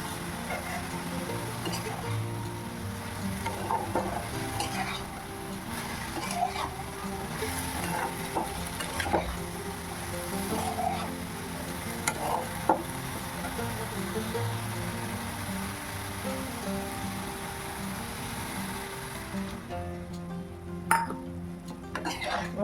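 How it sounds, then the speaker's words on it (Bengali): Cabbage and potato being stirred in a pan for a simple dinner dish, with a steady sizzle, scraping and clinking of utensil against the pan, then water added and a lid set on; continuous and close. "নাড়াচাড়া করে জল দিয়ে ঢাকা দিয়ে দেবো"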